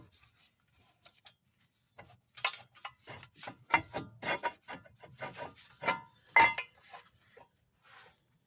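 A bolt is threaded by hand into a front brake rotor on a Ford Escape, giving close, quiet, irregular metallic clicks, rubs and small clinks in short bursts, with no talking.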